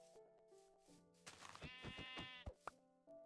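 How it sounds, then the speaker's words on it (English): A sheep in the video game Minecraft gives a clear, wavering bleat lasting about a second, fairly close and alone over faint game background sounds. "Oh, there's another sheep there."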